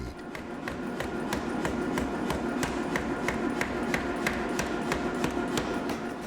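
Wootz Damascus steel being hammer forged, with steady rhythmic hammer blows striking at an even pace over a continuous background rumble, moderately loud and without talk.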